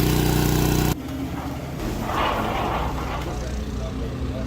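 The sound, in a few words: Tesla car noise while charging outside hotel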